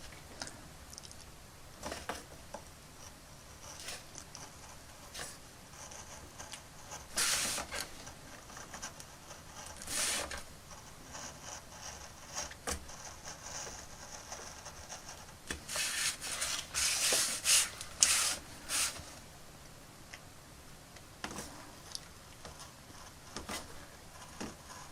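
A scalpel scrapes and cuts through a small 3D-printed toy part for a vintage Mego Paul Stanley figure, giving quiet, irregular rubbing and scratching strokes with some louder bursts of scraping, close and with no talk.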